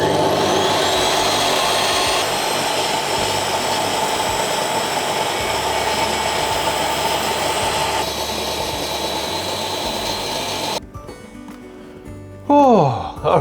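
Spinning blade cutting into the corners of a handmade photo frame, a loud, steady motorized whir that holds for about eleven seconds, then cuts out to quieter clatter and a short whining spin-down.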